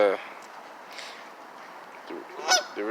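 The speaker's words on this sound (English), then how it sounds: "one Canadian geese that's with them" A Canada goose honks outdoors a few times among ducks in Boston, nasal calls rising over a quiet background with light rustling, while a person talks nearby.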